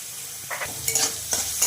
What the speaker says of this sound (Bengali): আমার আলুটা ভাজা হয়ে গেছে এবারে আমি এর মধ্যে পরিমাণ মতো নুনটা দিয়ে দিচ্ছি